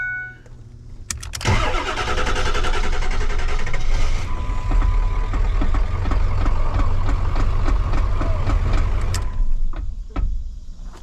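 A 7.3 diesel truck engine cranks and starts, then idles loudly with a rapid, rattling knock from something hitting the exhaust for several seconds before shutting off.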